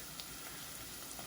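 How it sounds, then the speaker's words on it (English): Steady crackling sizzle of food frying in hot fat in a pot for New England clam chowder, continuous and close, with no voices. "you hear that noise? That's the sound of frying."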